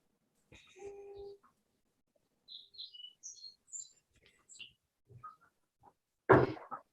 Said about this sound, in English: Somebody has some nice songbirds in the background.